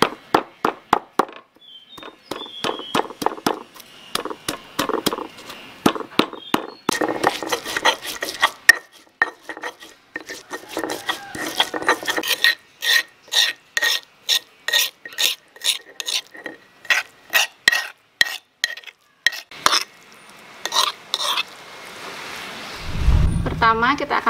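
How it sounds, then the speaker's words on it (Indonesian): Shrimp paste and salt being ground into a spice paste for a coconut-milk chicken soup: rhythmic, close scraping and pounding strokes repeat steadily, pausing briefly, ending with a deeper rumble. "Kita akan tambahkan terasi dan sedikit garam. Kemudian kita haluskan."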